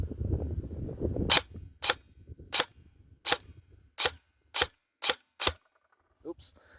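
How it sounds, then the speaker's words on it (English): Matrix Warlord DMR airsoft electric gun fires about eight sharp, crisp single shots at a roughly even half-second pace, close and loud, after a brief low rumble at the start. "we're going to be doing a little bit of shooting."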